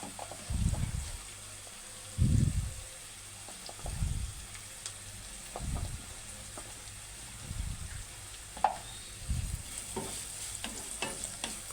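Brinjal and egg curry seasoned with salt and turmeric is stirred and fried in a pan, a spoon scraping in about seven distinct rhythmic strokes over a steady low sizzle.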